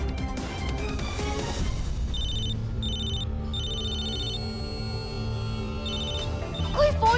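A landline telephone keeps ringing unanswered, a repeated electronic trill in short bursts with gaps, fairly faint under a steady layer of background music and room noise.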